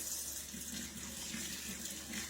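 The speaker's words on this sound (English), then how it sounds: "Let me give my hands a wash." Tap water runs into a kitchen sink for hand washing, a soft continuous splashing hiss that stays even throughout, fairly quiet, with no voices.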